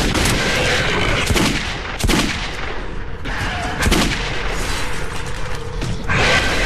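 Loud, dense gunfire in the shooter game Metro 2033, with heavy repeated shots and bursts crashing close and continuous across the whole stretch.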